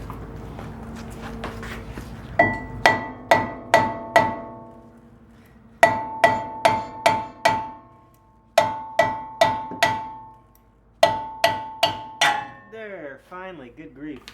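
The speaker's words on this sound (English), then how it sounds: "I'm probably gonna grab a hammer to bust it loose" A hammer repeatedly strikes the front brake rotor on a 2012 Toyota Tacoma, producing sharp metallic ringing clangs in bursts of four or five quick blows separated by short pauses, each hit decaying with a bell-like ring.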